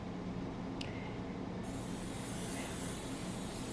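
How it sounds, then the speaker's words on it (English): Pam cooking spray hisses briefly and steadily onto the sides of a baking pan, a soft close aerosol spray with no talking. "I'm going to lightly spray this pan with some Pam cooking spray on the sides."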